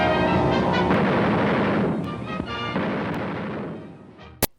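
Machine gun fire from a World War II-era newsreel, heard as a sustained loud roar of rapid bursts that fades toward the end, with a sharp crack just before it stops.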